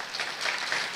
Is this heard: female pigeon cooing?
no